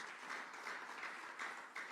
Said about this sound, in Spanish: Y ese aplauso es para el Señor, déselo a Él.